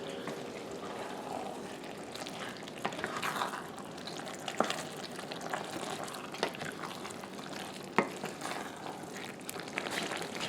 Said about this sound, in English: sitting here smelling this, sauteing